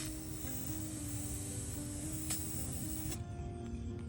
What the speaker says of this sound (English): then spray painting it a soft rose gold color.